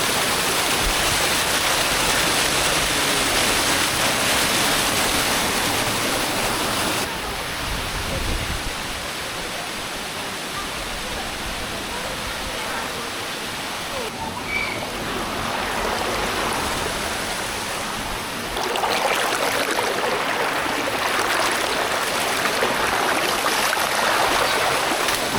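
Water rushes steadily at Hidden Falls in Quezon Province, the broad roar of the waterfall and flowing stream filling the scene, close and continuous, swelling louder in the last stretch, with no talk.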